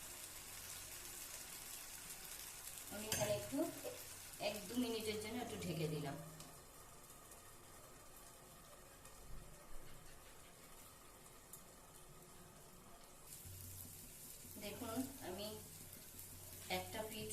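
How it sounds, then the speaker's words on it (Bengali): Semolina batter snack frying in a pan gives a soft, steady sizzle through the whole stretch, with a voice speaking over it near the start and again near the end. "সুন্দর ভাজা হয়ে গেছে এই পিঠটা দুটো পিঠই ভাজা হয়ে গেছে"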